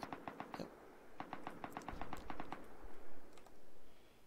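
A quick string of sharp cracks and pops ripples out in two clusters from frag grenades going off in the Rust video game, followed by a few duller thumps as it fades.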